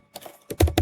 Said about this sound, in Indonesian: Lalu di sini kita akan mengetik perintah